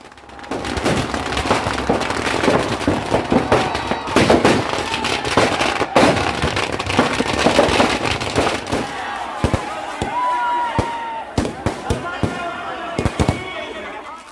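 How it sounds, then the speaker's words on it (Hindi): Dense fireworks crackle and pop continuously at a Holika Dahan bonfire celebration in Sikligarh Dharhara, Banmankhi, sharp bangs overlapping in a rapid barrage, with a busy outdoor crowd murmuring underneath. "किस तरह से यहां पर आतिशबाजी हुई है"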